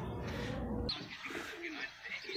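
Domestic pigeons in a Pakistani loft coo in soft, low repeated calls close by, with brief bird chirps and faint background noise, no speech.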